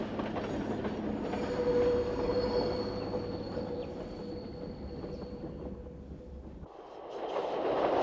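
A Corsican X 97050 diesel railcar rolls steadily past nearby, its wheels rumbling and squealing on the rails for several seconds.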